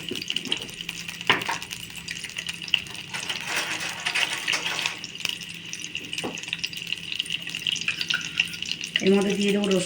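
Eggs are dropped into hot oil and fry with a steady crackling sizzle, punctuated by a few sharp pops and clinks, with a brief faint voice in the background.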